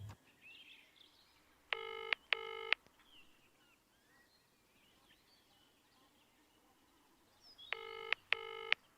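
A phone is dialed twice, each time a quick pair of tone bursts, and the call goes unanswered; faint, quiet room noise fills the gaps between.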